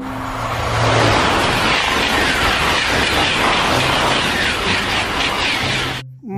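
A toy high-speed train gives off a loud, steady mechanical whirring rush that holds for about six seconds before cutting off abruptly.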